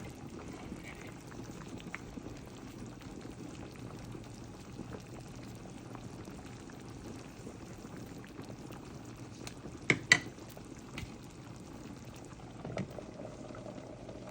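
Soup with meatballs simmering in a pot on a stove, a steady low bubbling that runs continuously and quietly, with a couple of brief clinks near the middle.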